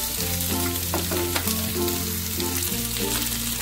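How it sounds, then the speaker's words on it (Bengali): Onion and capsicum fry in a pan over a raised flame and get stirred, giving a steady, continuous close sizzle that holds at an even level throughout. "পেঁয়াজ আর ক্যাপসিকাম অল্প একটু ফ্রাই হয়ে গেছে"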